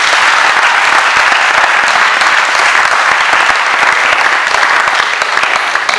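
Loud, dense applause fills a town hall wedding ceremony in France, a steady wash of many clapping hands running without a break from start to finish.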